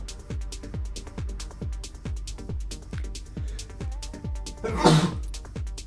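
A single sharp sneeze bursts out near the microphone partway through, set against steady rhythmic music with a thumping beat.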